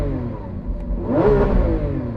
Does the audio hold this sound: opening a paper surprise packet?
no